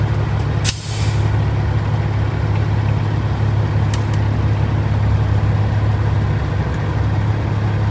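A semi truck with a trailer pulls out slowly, its diesel engine a steady loud low rumble throughout, with a short hiss of air brakes releasing near the start and a few faint clicks.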